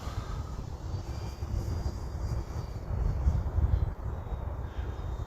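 A model Edge 540T airplane's propeller engine drones steadily overhead in flight, a continuous low hum that swells slightly in the middle before settling, with no voices.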